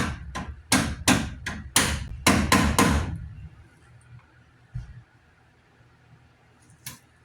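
Hammer taps driving a new door lock cylinder into a lowrider's door, about nine sharp close metallic knocks over three seconds, then a few faint scattered clicks.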